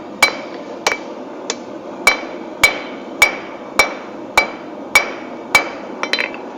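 A blacksmith forges a leaf keychain on an anvil, about ten sharp, ringing hammer blows at a steady, slightly uneven pace, each with a bright metallic ring, ending in a quick flurry of lighter taps.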